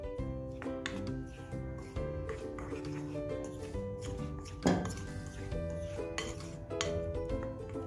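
Cornflour, flour, crushed chilli, black pepper and salt being mixed in a bowl for crispy potato fries, with repeated light clinks and scrapes of utensil against bowl over soft tonal sounds underneath.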